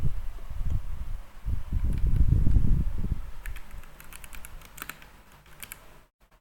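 Someone types on a computer keyboard while entering code for a linear algebra exercise, producing a sparse scatter of light key taps after a stretch of low rumbling handling noise, close and quiet, with no speech.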